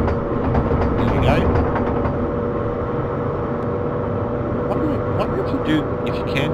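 A train rumbles steadily along the track in Train Simulator 2015, a constant low drone with faint clicks, and someone talks over it throughout.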